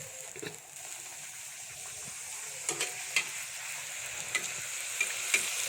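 Paratha fries in hot oil with a soft, steady sizzle and faint bubbling, a few brief louder crackles and spits breaking through near the end, fairly quiet overall.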